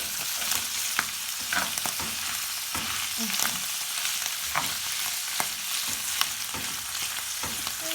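Steady sizzling of vegetables frying in a pan, with occasional clicks and scrapes of stirring throughout.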